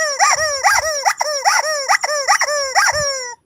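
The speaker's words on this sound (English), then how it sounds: "More of those squeaky chickens." A squeaky rubber chicken toy squeaks over and over in quick, loud, regular bursts, about eight wheezing honks in a row, close up with no talk.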